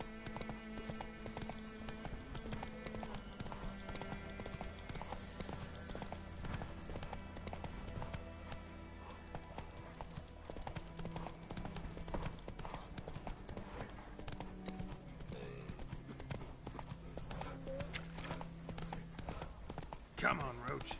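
The horse Roach galloping in The Witcher 3, a quick rhythmic clip-clop of hooves running steadily under game music and spoken voices, moderately quiet throughout.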